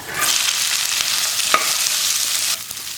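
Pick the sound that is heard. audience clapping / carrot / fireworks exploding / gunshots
carrot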